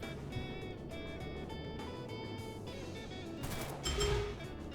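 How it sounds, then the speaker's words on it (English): Battle in a tactical roguelike video game: a dense, continuous clatter of gunfire and small blasts rolls on at moderate level, with a heavier explosive burst toward the end and no talk. "a pretty trying battle with explosions"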